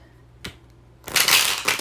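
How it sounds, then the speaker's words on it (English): Tarot cards being shuffled by hand: a brief soft tap, then a dense, loud riffling burst of cards that runs for nearly a second with no talking. "let's just go ahead and shuffle the cards"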